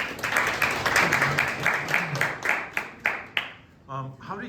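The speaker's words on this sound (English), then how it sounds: "Round of applause." Applause from an audience, a steady patter of claps that fades out near the end, with a voice coming in over the tail.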